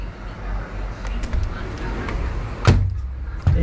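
A restroom door and a closet door in a Bali hotel room in Uluwatu, opening and closing: a few soft bumps, then a sharper thud near the end, close by over a low room hum.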